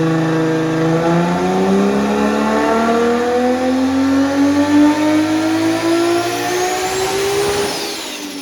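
An RB26-swapped all-wheel-drive Nissan S13 Silvia of about 1400 horsepower revs hard on a dyno run-up. The loud engine note climbs steadily in pitch for several seconds, then drops away near the end with no voices.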